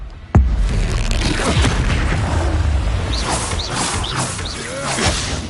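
In the Hogwarts Legacy video game, an Expelliarmus spell is cast with a sudden deep boom, followed by a rumbling, whooshing magical burst and faint chirping effects over a dense game soundtrack.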